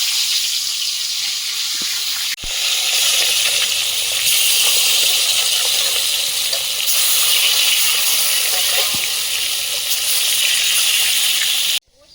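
Fish slides into hot oil in a kadai and sizzles with a loud, steady hiss that runs almost to the end. A sharp clack comes early, and the frying cuts off abruptly.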